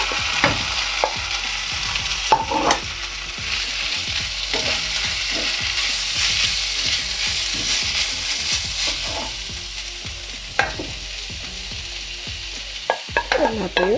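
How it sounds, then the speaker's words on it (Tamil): Sautéed leeks are stir-fried into fried rice in a hot pan, giving a constant crackling sizzle broken by frequent scraping stirs and clinks, close and loud, with no voices. "இப்போ நாங்கள் ஏற்கனவே வதக்கி வச்ச லீக்ஸ் எல்லாம் இதோட சேர்த்தலாம்."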